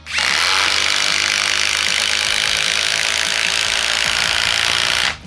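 Hikoki 36V impact driver sinking a 6-inch timber lock screw into wood, a loud continuous motorized buzz and rattle of hammering that runs steadily for about five seconds before stopping.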